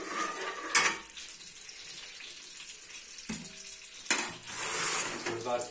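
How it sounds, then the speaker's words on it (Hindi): Desi ghee sizzles in a pan while semolina halwa is being made, a faint frying crackle broken by a few sharp clanks of a utensil against the pan. "थोड़ा सा देसी घी डाल लेंगे जस्ट फॉर फ्लेवर"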